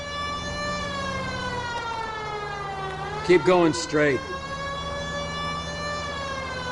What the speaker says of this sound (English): This seems like a good time for the siren, don't you think?